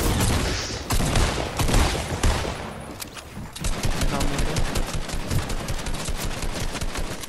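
Rapid gunfire rattles in a battle royale video game, dense bursts of automatic shots loud and close, continuing almost without pause across the whole stretch with no talk.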